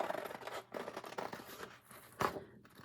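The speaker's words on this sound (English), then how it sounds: "So then now you're going to cut along the line" Scissors snip through paper along a line during a wooden turkey craft. Several close, soft crunching cuts repeat in a quiet room, with no talk.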